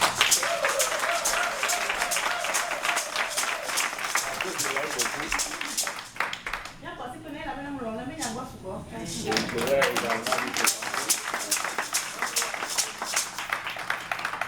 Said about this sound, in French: acclamez très fort pour sa vie